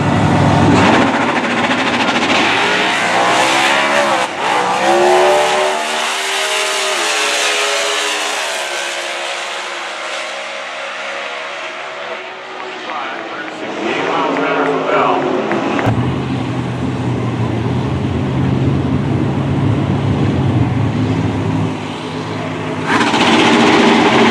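COPO drag racing car, a Chevrolet Camaro COPO, roaring down the drag strip: a loud, sustained engine howl with rising pitch sweeps, fading midway and then returning as another loud engine run near the end.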